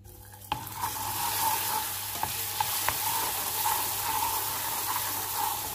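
A spoonful of butter sizzling in a pan while making a caramel dessert, a loud, steady frying hiss up close, marked by a few sharp clinks and scrapes of stirring.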